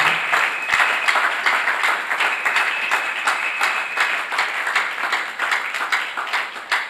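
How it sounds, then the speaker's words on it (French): A church congregation at a Sunday worship service claps in praise of the Lord. The applause is dense and rhythmic, with steady repeated beats rolling through the room. A voice is faintly audible underneath. "Si tu comprends ces choses, acclame le Seigneur."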